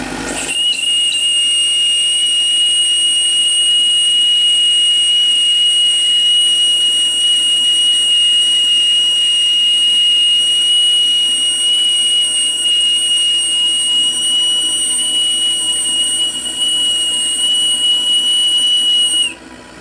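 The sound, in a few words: gas burner of a model steam gunboat roaring at full power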